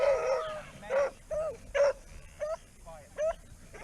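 Dogs on a homestead letting out short whimpering yips and whines, about six separate rising cries at fairly regular intervals, moderately close against a quiet background.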